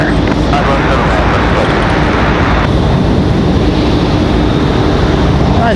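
A Southwest Airlines plane lands at Raleigh-Durham airport, a loud, sustained engine and airflow roar covering the whole clip, with a person talking over it.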